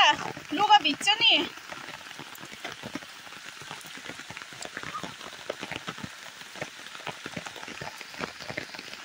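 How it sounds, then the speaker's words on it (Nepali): Heavy rain patters densely on surfaces close by while someone walks through it on the way to school, a voice talking briefly at the start before the steady downpour continues alone. "पानी पुरा पर्दैछ त्यस कारण हिँड्दै जाँदैछु"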